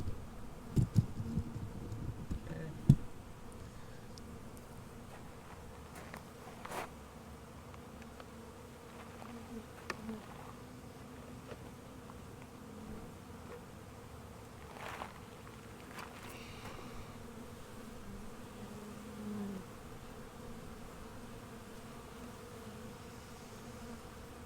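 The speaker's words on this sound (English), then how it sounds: "So there's a bunch of bees flying." Honey bees flying around a beehive outdoors, a soft continuous buzzing hum with a few louder thumps and bumps early on, steady and fairly faint throughout.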